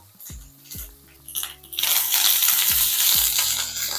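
Chopped ingredients for a Madurai-style goat intestine salna curry are stirred and sautéed in a pan with curry leaves and coriander stems. The utensil clinks and scrapes at first, then a loud, steady sizzle rises and holds, with no talk.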